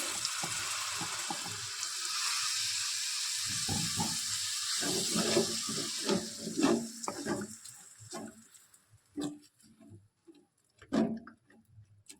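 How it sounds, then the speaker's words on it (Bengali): Water poured into frying chicken masala in a hot pan sets off a loud hiss and crackle that fades into scattered pops and bubbling spits, close up. "জল দিয়ে দিন নাহলে মশলাটা পুড়ে যাবে"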